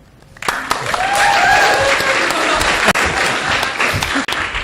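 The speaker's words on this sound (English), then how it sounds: "You guys can go ahead and clap now." Audience applause at an evening event honouring oral interpretation and storytelling, a loud sustained clapping that swells and holds with a few whoops, no talk.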